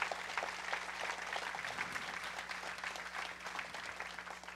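A church congregation at a student service applauds steadily for several seconds, a soft, even patter of many hands that sounds somewhat distant and subdued, with no voices over it.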